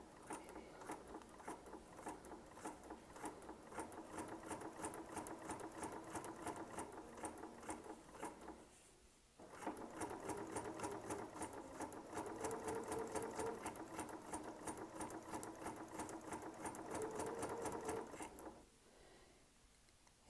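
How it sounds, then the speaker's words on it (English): A sewing machine runs in steady rapid bursts while stitching a curved paper-pieced quilt seam, the motor chattering close up, pausing briefly near the middle and again near the end. "I'm just going to take it slow and go around this curve, sewing right on the line"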